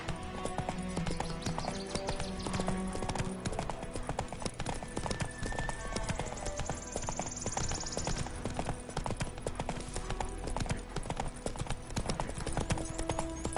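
Roach the horse in The Witcher 3 walking, with steady rhythmic hoof clip-clops over a continuous game soundscape, and a brief neigh partway through.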